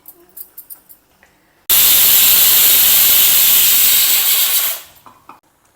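A pressure cooker releasing steam in a loud, sudden, sustained hiss that runs about three seconds before tapering off, preceded and followed by faint light knocks.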